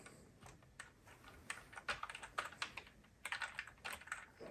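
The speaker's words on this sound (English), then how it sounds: "Let's try an older keyboard." Fingers type steadily on an older computer keyboard, a close, quiet run of clicking keystrokes in uneven bursts with no voices.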